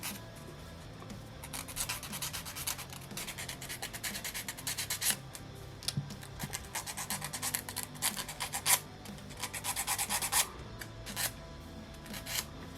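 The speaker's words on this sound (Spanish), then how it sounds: "Tomamos la lija y vamos a lijar un poco acá." Sandpaper scrapes back and forth on a small wooden model part, a steady run of quick, close, dry rubbing strokes in an irregular rhythm, quiet and alone.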